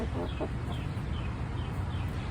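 A silver-laced Wyandotte hen gives a couple of short, close clucks near the start, followed by a steady low background rumble with no further calls.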